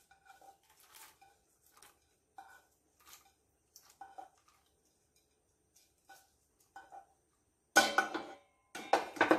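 Fried bitter gourd being stirred into a curd curry in a pan: scattered soft clinks and scrapes of a spoon against the pan, then louder clattering metal-on-metal bursts near the end, close and alone.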